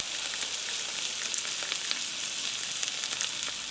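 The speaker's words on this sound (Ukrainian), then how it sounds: "Смажена рибка." Fish sizzling as it fries in a pan, a steady dense crackle with scattered sharper pops throughout, close and fairly loud with no voices.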